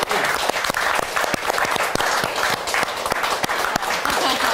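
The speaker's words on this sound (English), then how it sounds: "Should we give Zach a round of applause?" Studio audience applause on a live television magazine show, a loud, continuous round of dense clapping that holds steady throughout.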